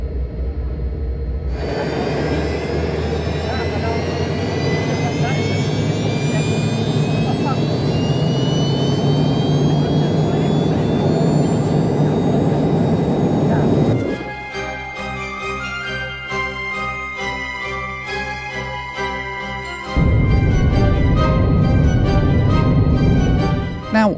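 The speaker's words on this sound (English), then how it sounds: "The sounds of three Yevchenko turbofan engines spooling up right behind me." Three Soviet Ivchenko turbofan engines on a 45-year-old airliner spool up close by with a rising whine and roar, shifting into a steady tonal drone, then swelling louder again near the end.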